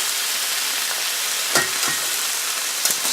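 Butter, garlic and bay leaf sizzle in a pan, a steady close hiss of frying that runs throughout, with a couple of brief clinks partway through.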